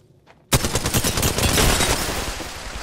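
Rapid automatic gunfire from a shooter video game erupts suddenly after a near-silent start, a dense close stream of shots that continues without pause.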